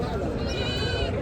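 A goat bleats at a busy livestock market, one wavering, drawn-out cry rising over steady crowd chatter and voices talking nearby.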